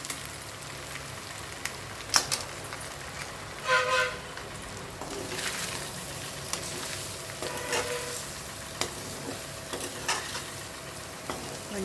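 Chicken fry with homemade masala and garlic cooking on a low flame, a soft steady sizzle broken by scraping stirs and occasional louder bursts of spatter.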